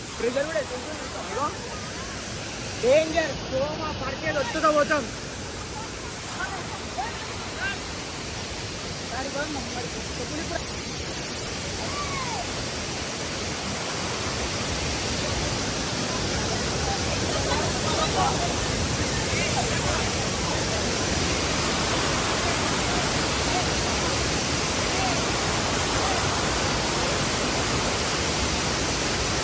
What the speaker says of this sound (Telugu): ఇక్కడ పైన నీళ్ళు పడుతున్నాయి. చూడరా ఎంత అసలు ప్రెజర్